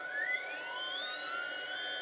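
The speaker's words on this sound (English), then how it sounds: "This motor is spinning at 2000 RPM" Small magnetized drone-helicopter motor spinning at 2000 RPM, read by a magnetic encoder, giving a steady high electric whine with rising tonal sweeps that grow slightly louder toward the end.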